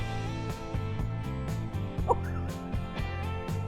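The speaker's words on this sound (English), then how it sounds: "A chicken is trying to get in through the..." Backyard fowl, tagged as turkey or chicken, clucks and gobbles over a loud steady music bed. The bird calls are brief and partly masked by the repeating musical pattern.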